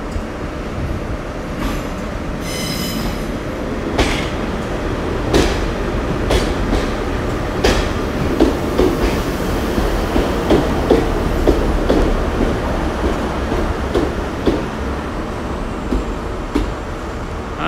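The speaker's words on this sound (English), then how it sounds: "now we have the Newton Abbott train coming in" The Newton Abbot train pulling into Exeter St David's station, a continuous loud rumble of wheels on track with rhythmic clickety-clack and scattered metallic squeals and clanks as it rolls in close by.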